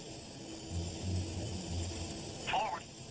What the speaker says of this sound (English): The technician eliminates the other sounds in the cockpit one by one, until all that's left is the sound of the engines.